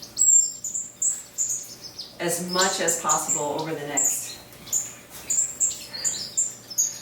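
Small birds chirp and tweet repeatedly in a home aviary in winter, short high calls recurring throughout, with someone talking nearby for a few seconds in the middle.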